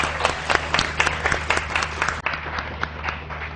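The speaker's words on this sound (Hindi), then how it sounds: "तो बहुत सारी तालियां जी" Studio audience applause on a Pakistani morning show, dense steady clapping from many hands filling the whole stretch, fairly loud and close, with a faint low hum underneath.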